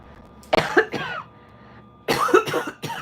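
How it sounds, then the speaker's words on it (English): Two bursts of harsh, productive coughing, the first a pair of quick coughs and the second a longer fit of several, close and fairly loud. "So yeah, I'm coughing up stuff."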